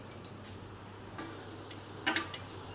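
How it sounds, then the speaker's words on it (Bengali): A spatula stirs whole garam masala and bay leaves in hot oil in a pot for mutton handi, giving a faint sizzle with soft scraping taps and a brief clink near the end. "খুন্তি দিয়ে একটু নেড়ে নেওয়া হচ্ছে যাতে তেল, তেজপাতা, গরম মশলা হলো মিক্সিং হয়ে যায়।"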